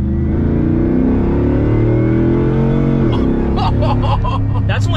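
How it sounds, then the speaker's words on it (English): A Hellcat-engined six-wheel-drive Jeep Gladiator 6x6 idling with a deep, loud rumble, its pitch swelling and then surging as the engine revs, with voices chiming in near the end. "A six-wheel drive, Hellcat powered Jeep, buddy."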